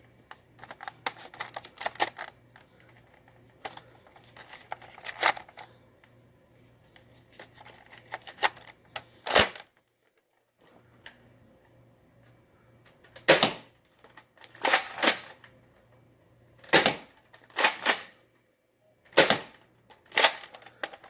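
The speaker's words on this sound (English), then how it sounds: "So let's fire this thing. I have here the Mega Gun. Gonna load 3 darts into it." A Nerf Mega Magnus dart blaster is loaded with three darts: scattered close plastic clicks and rattles, then a pause, followed by a series of sharp, loud snapping bursts spaced a second or two apart.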